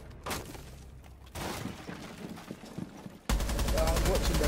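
Gunfire in Rainbow Six Siege, a couple of sharp shots early, then a steady dense stretch of game noise ending in a loud, continuous burst of sustained fire; voices talk over parts of it.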